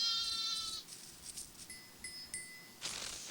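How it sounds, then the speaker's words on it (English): A sheep bleats in short, quiet calls amid soft background music, several brief bleats spaced apart at a moderate distance. "the sheep comes to fetch her little lambs from Eddie's trailer and Julian's hut"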